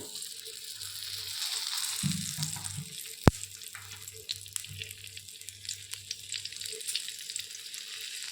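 Whole cumin and bay leaves fry in mustard oil in a pan with a soft, steady hiss and a few light crackles, faint and close, with no talking.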